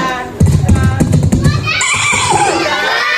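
A man imitates a horse's whinny with his voice during a humorous Islamic sermon at a Maulid Nabi celebration, a rising-then-falling neigh after bursts of crowd noise and laughter from a large audience.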